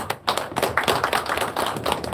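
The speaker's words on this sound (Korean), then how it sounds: "자, 박수는 그만 이제." Applause at the founding assembly of a Korean labor union federation, a room full of people clapping in a dense, uneven patter that swells and thins, heard from within the crowd.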